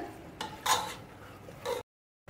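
Chicken curry being stir-fried in a pressure cooker, with a few scraping, clinking strokes of a utensil against the metal pot, close and fairly quiet, ending in a brief silence.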